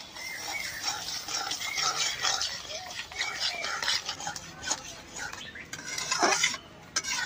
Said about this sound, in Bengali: বারে বারে জাল হবো আর এরকম করে নাড়ানো লাগবে